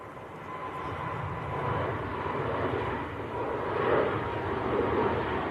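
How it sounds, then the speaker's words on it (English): Air France Airbus A220 jet accelerating down the runway on its takeoff roll, a steady broad engine roar at middle distance that swells gently and holds, with no voices. "Air France is on the roll, an A220 to Paris Charles de Gaulle"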